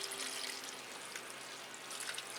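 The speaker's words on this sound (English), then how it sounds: "I'll just immerse it into the water and then just spread a little bit of moisture over the roots at the top here." Potted Cattleya orchid plunged into water, giving a soft continuous splashing and trickling wash that stays faint and close throughout.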